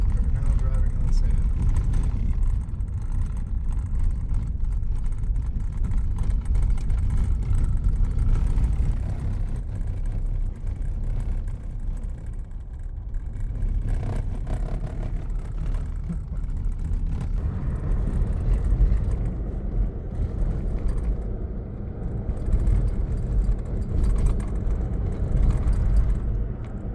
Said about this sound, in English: We're now driving on sand.